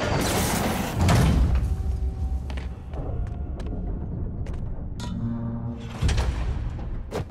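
A heavy trap door in a vault area of Marvel's Spider-Man creaks and shifts open, with a loud thud near the start and a later mechanical clunk over a low game ambience.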